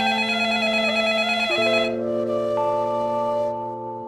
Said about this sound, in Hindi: तभी मेरा फोन बजने लगा